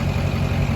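Close, loud idle of a tuned Duramax diesel pickup fitted with an S366 turbo, new injectors, cold air intake and 5-inch exhaust: a continuous heavy, pulsing rumble topped by a thin steady turbo whistle.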